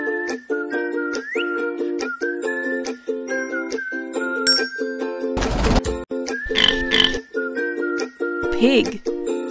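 Cartoon pig in a kids' animal puzzle game gives a few short, snorty oinks in brief bursts over a looping, whistle-like jingle that plays throughout.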